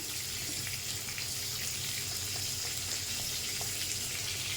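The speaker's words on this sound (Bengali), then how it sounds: "আমি লবণ আর হলুদ ছাড়া কিছু সময় ভেজে নিচ্ছি।" Tengra fish frying in a pan, a steady close hiss and sizzle of hot oil that holds constant and loud throughout.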